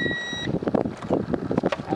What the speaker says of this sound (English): Now you can hear the beep.